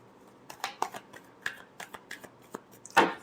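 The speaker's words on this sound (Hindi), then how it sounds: "last shuffle" Tarot cards being shuffled by hand during a love reading, a quick run of crisp riffling flicks and slaps, close and clear, ending in one louder snap of the deck.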